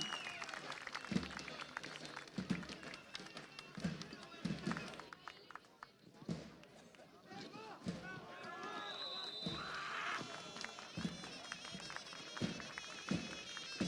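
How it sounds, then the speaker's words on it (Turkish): A crowd at a traditional Turkish wrestling event in Burhaniye claps in steady rhythmic bursts, loud and close, while an announcer talks over the applause. "Hep birlikte alkışlarla diyelim maşallah."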